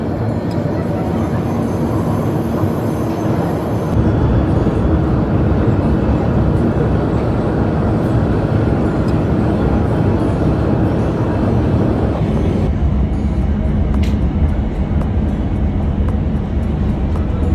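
A Riyadh Metro train gives a loud, steady rumble and hum from inside as it rides toward a station, with the tone shifting as it slows to arrive.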